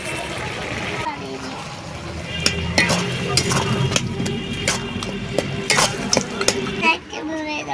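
A spatula stirs banana flower and crab curry in a pan over a village cooking fire, making repeated close scraping and clattering strokes over a soft sizzle.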